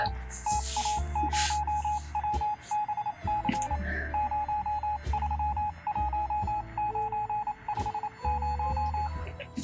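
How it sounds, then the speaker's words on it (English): Repeated electronic Morse code beeps from the survival game 60 Seconds, steady tone pulses in short and long groups over a low background hum, loud and continuous throughout. "Is that Morse code?"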